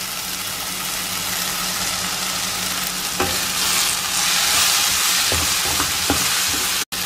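Curry leaves tossed into hot oil for a Kerala-style chicken curry, a loud continuous sizzle up close with a few scattered knocks of a spoon against the pan.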